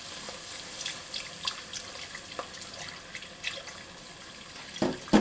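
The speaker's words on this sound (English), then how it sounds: "now I'm going to pour my milk in slowly" Half-and-half milk trickles slowly into a pan for scalloped potatoes, a soft, faint liquid pouring with small irregular splashes, ending in a few louder clinks and stirs near the close.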